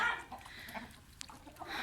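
Several chickens clucking softly nearby in a garden, brief overlapping clucks and squawks in a quiet setting.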